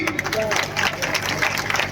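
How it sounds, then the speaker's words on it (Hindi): Crowd at a political rally in India breaking into clapping and applause, a dense wash of many hands with voices mixed in throughout. "बजाओ ताली"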